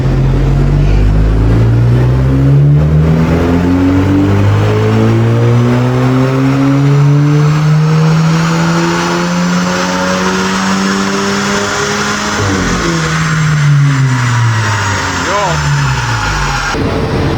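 An Audi A3 making 110 kW and 250 Nm revs hard on a dyno, its loud engine note climbing and sweeping in pitch through a long pull, then dropping and rising again near the end.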